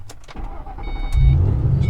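A supercharged 2005 Ford Mustang GT with an automatic five-speed transmission cranks briefly, then catches and settles into a loud, steady, close-up idle.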